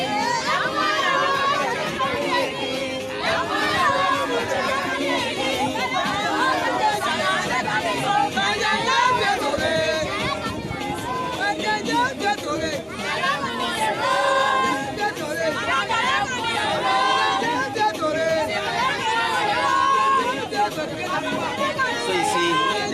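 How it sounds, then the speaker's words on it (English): A large outdoor crowd gathers at a groundbreaking ceremony for a sports facility, a dense, constant hubbub of overlapping chatter with children's voices and occasional shouts, loud and close throughout. "you see, the crowd has started to build up."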